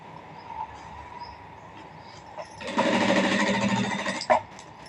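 A sewing machine stitches gold piping onto blouse cloth, starting with a short burst after quiet room tone and then running in a steady, close, moderately loud whir for about a second and a half before stopping with a brief click.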